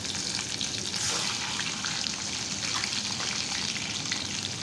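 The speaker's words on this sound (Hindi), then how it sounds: "जब जीरा तड़तड़ाने लगे तो इसमें डाल देंगे बारीक कटी हुई हरी मिर्चें, बारीक कटा हुआ लहसुन" Cumin, finely chopped green chillies and garlic sizzle in hot oil for bitter gourd sabzi, a dense, continuous crackling fry heard up close with no voices.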